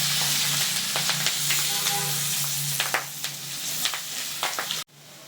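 Red-fried onions with curry leaves and turmeric powder sizzle loudly in a pan for a seer fish gravy, with repeated scraping stirs and clicks of the spoon, before the sound drops away abruptly near the end.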